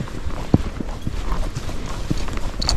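An Icelandic gaited horse moves uphill on a trail, its hoofbeats coming as soft, irregular clops at a moderate distance over quiet outdoor background.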